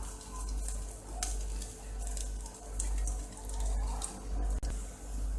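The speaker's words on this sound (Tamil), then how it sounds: "இப்போ அடுப்பை பற்ற வச்சாச்சு. நம்ம எண்ணெய் ஊற்றிக்கலாம்." Oil hitting a hot pan on a lit stove, a steady crackling sizzle with low rumble throughout, close and fairly quiet, while street-style masala puri is being cooked.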